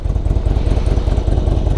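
A fuel-injected Harley-Davidson Road King motorcycle engine idles up close, its steady low, lumpy throb loud and even throughout with no talk.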